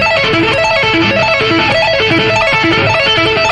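Fast tapped and hammered-on arpeggio on electric guitar, played legato without picking, repeating note patterns cycling rapidly and loudly, steady and alone.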